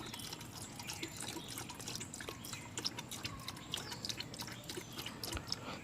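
Hydro+ rinseless car wash concentrate is squirted in small, quick bursts into a bucket of water, making faint, steady dripping and liquid splashing sounds close by with no talk.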